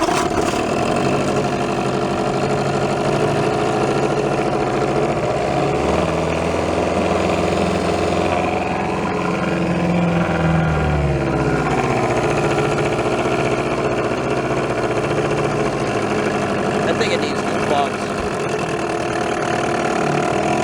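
A 1987 Evinrude 3 hp outboard motor runs steadily and loud throughout, a close, continuous small-engine putter with a brief change in pitch midway, no talking.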